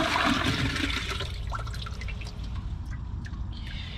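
A toilet flushes away thick tissue paper strings, a loud rushing gush at the start that fades into trickling and dripping water as the bowl refills, close by with no talking.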